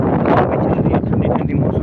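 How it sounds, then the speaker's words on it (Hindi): Strong wind gusts sweep through a village as rain clouds gather, a loud steady buffeting roar across the microphone that rises and falls without pause. "हवा चल रही है"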